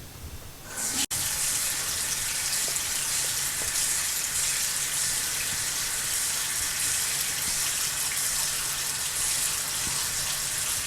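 Tap water pours steadily into a slow-draining sink, a loud, even, continuous gush that starts after a brief quieter moment and runs unbroken to the end, with no talking.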